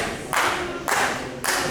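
At a DPW pro wrestling show, the crowd claps in unison for wrestler Two Guns, three sharp rhythmic bursts about half a second apart, loud and close over arena murmur.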